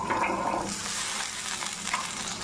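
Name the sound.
frying drumstick (sajna) vegetables with spices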